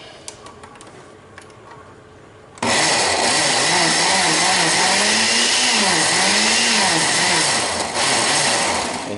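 A kitchen blender chopping salsa ingredients bursts on loud and close after a few quiet seconds, its motor whining steadily with a rising and falling pitch as the contents churn, running continuously to the end.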